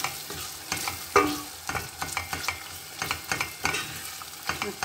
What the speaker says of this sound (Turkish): Salçanın ekşisi gidene kadar biraz daha kavrulsun.